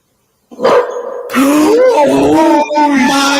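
A dog barking and yipping close and loud, a few excited barks and whines in quick succession, with a voice mixed in.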